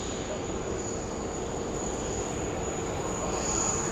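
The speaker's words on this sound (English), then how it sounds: "There she is, touchdown here at Brisbane Airport from Port Moresby." An airliner touching down at Brisbane Airport after arriving from Port Moresby, a steady distant engine roar with broadband rumble and a thin high whine, unbroken throughout.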